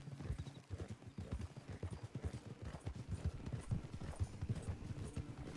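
A horse's hooves clip-clop in a steady, rhythmic gait in Red Dead Redemption 2. The beats are quiet but continuous and go on unbroken throughout.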